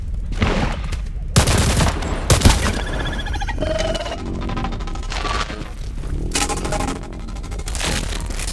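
Gunfire in a first-person shooter video game, several loud bursts of shots and rapid automatic fire with sharp cracks and booms, irregular and close, with occasional faint talk beneath.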